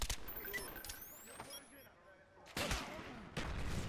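Gunfire in Call of Duty Team Deathmatch, a few sharp broadband bursts spread across several seconds, the loudest pair near the end, with game sounds and someone talking throughout.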